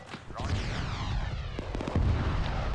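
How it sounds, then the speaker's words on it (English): Heavy booming blasts roll through a dense rumbling video game battle soundscape, with sharp cracks layered over continuous low thunder and a faint sweeping tone. "Hearing some big explosions go off"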